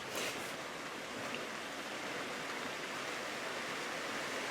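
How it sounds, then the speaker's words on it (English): Summer rain shower falling outside, a steady, even hiss of rainfall with no voices over it, soft and continuous throughout. "Isn't that a pretty summer shower?"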